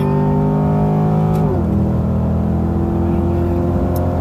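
A C8 Corvette engine strains hard under acceleration from a launch, a loud close drone that drops in pitch at a gear change partway through and then climbs again.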